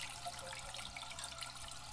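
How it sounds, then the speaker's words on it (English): Water runs steadily into a toilet tank fed from the household fresh-water line, with the flapper stuck open; a continuous close hiss and rush of filling water with no pauses and no voices. "So there's water running here"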